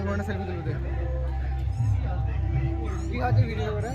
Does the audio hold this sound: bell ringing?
no